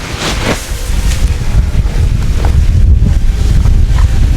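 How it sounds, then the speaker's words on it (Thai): Strong wind buffets the microphone outdoors while a 150 cm Chula kite is flown, a loud, steady roaring rush with gusty swells and no speech. "ลมมันดีครับ ผมก็เลือกที่จะปล่อยว่าวขึ้นนะครับ"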